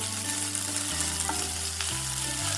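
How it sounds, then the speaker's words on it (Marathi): Lengthwise-sliced onion and green chili sauté in a pan for Kolhapuri misal, giving a strong steady sizzle over a constant low background hum, without any speech. "आता मी हा उभा चिरलेला एक कांदा आहे तो घालून घ्यायचा आपल्याला। छान असं हे आपल्याला परतून घ्यायचं।"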